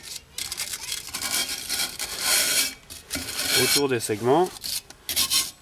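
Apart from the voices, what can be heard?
wire brush scrubbing drum brake shoes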